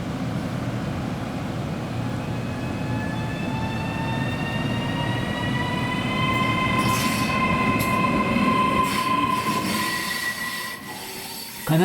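A train pulls through Vernazza station in the Cinque Terre, its wheels squealing in long, high, sustained tones over a loud rolling rumble that builds and then eases.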